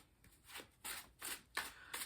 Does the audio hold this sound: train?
no